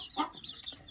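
Black Australorp chicks on a farm let out soft, high peeping chirps and a brief cluck-like note, close and quiet, in a short burst.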